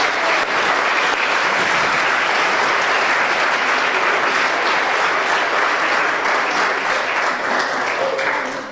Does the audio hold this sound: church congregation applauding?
yes